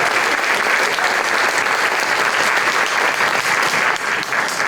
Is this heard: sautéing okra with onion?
no